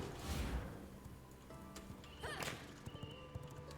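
A horse in the V Rising video game, with a burst of hoof clatter and a whinny-like sound near the start, then sparse game effects and faint thuds over a low background.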